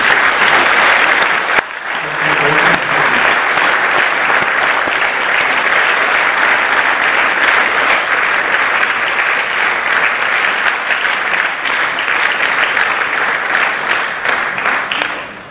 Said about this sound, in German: Ich darf einmal zwischenzeitlich noch einen kräftigen Applaus für unseren